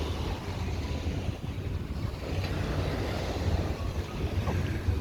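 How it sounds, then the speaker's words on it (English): Water laps and waves wash along an East Coast beach in Singapore, a steady broad rush with low wind rumble and no voices, ships offshore. "The ships, the beaches, the sound of the water."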